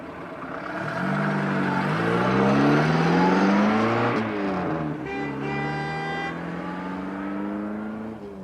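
A car engine running and pulling away on a drive north toward Loch Lomond, a steady close engine drone that rises and shifts through gear changes with no talk.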